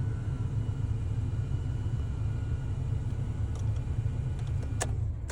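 A car engine idles after being switched on, a low steady rumble heard from inside the vehicle, with a few small clicks and rattles near the end and no talking.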